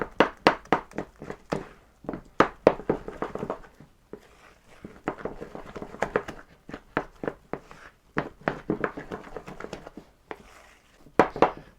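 A spatula folds whipped cream into cream cheese in a bowl, giving repeated soft taps and thuds on the bowl in an irregular rhythm, close and fairly quiet.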